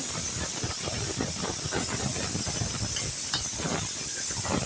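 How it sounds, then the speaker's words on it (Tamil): Sliced tomatoes and turmeric sizzle in hot oil for a goat intestine curry, giving a steady, loud, close frying hiss that never lets up, with no talking. "தக்காளி 2 தக்காளி அரிஞ்சு வச்சுருக்கேன், அதையும் போட்டு வதக்குவோம்"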